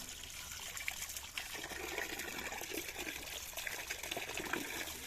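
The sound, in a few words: washing raw chicken in clean water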